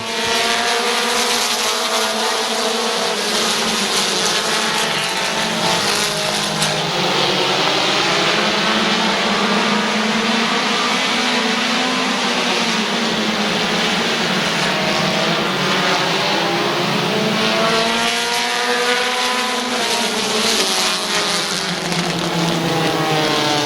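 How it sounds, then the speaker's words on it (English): Race cars at Midvale Speedway roar back up to speed on a green-flag restart, a loud, continuous blend of many engines rising and falling in pitch as the field passes and circles the track. "Sean Donnelly and DR3 bring them back in for green flag racing."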